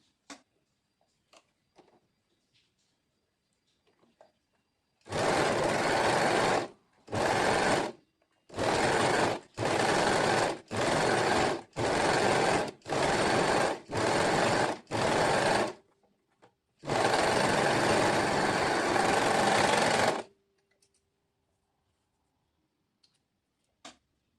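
A domestic sewing machine stitches the sleeve of a muslin dress in a rhythmic series of short, loud bursts, eight quick runs followed by one longer sustained run, with near silence before and after.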